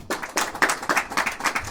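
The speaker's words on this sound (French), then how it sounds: "Et on l'applaudit bien fort." An audience applauds with a burst of dense, fairly loud clapping that rises quickly and holds steady, heard in a hall during a meeting.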